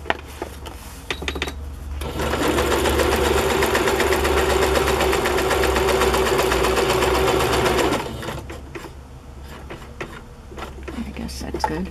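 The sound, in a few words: sewing machine straight stitching sides of pockets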